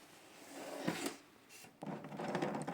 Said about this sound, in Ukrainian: Відкриваю інкубатора